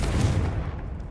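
The Confringo explosive spell goes off in Hogwarts Legacy as a single loud, close, low boom that rumbles and fades over about a second.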